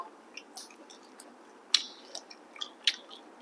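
Crispy roast suckling pig being chewed close up: a few scattered crunchy bites and wet chewing clicks, with two sharper crackles, over quiet background.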